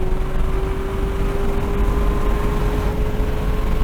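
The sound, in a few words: Camaro ZL1 1LE engine at wide open throttle, shifting into fourth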